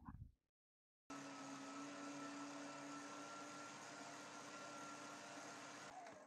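Stand mixer kneading dough for a German snail-shaped schneckenkuchen: after a short sound and a moment of silence, a steady motor whir with a constant hum starts and runs evenly at moderate loudness until it stops at the end.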